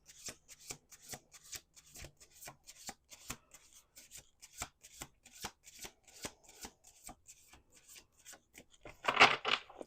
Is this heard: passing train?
no